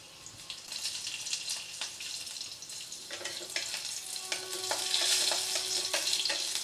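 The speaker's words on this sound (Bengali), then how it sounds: "দেখুন রসুন লঙ্কা ভাজা হয়ে গেছে।" Four cloves of garlic and two green chilies fry in a little oil over a low gas flame, giving a steady, close crackling sizzle with brief spatters that grows slightly louder toward the end, with no talking.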